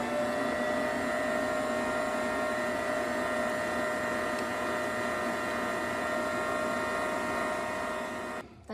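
An electric mixer drones steadily while mixing a sourdough leaven, a constant whirring motor hum close by that cuts off at the end.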